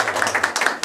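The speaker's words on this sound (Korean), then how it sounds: "우리 32회 동기회를 먼저 박수 한번 쳐주세요" Scattered clapping from a modest group at an alumni association meeting, distinct uneven claps close by that sound like a small room rather than a large hall.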